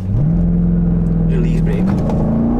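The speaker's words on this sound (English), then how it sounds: "apply full brake pressure, apply full throttle." A Dodge Durango SRT held on the brake at full throttle: the engine note jumps up quickly, holds a loud, steady roar, then climbs again near the end.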